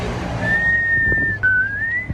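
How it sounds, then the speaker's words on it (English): A loud, sustained whistled tone held steady, then dipping briefly and rising again, close to the listener over a low background hum. "Do you ever just have the urge to whistle really loudly?"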